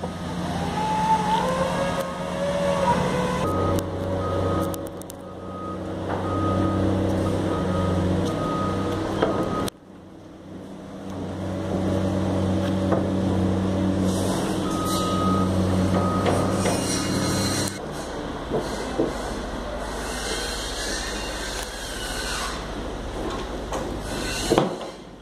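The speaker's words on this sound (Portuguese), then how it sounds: "Barulho aí, uma obra que tem aqui no lado." Construction site beside a riverside linear park in Itapema, Brazil, with rumbling trucks and machinery, repeated reversing beeps and clanks at moderate distance, the noise cutting out and returning, no talking.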